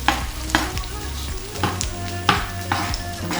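Creamy spinach being stirred in a hot pan, a spoon scraping and knocking at a steady pace while the greens sizzle and fry continuously underneath, close and moderately loud with no talking.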